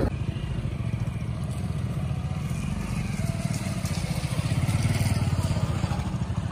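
A scooter engine drones steadily while riding along village roads past fields, a loud, close, even mid-pitched hum with rattling clatter that swells slightly toward the end, no voices over it.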